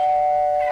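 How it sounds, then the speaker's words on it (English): A doorbell sounds one steady, clear chime tone that holds for under a second, loud and alone, in a 1975 BBC studio comedy sketch. "Go and answer the door, Hildegard."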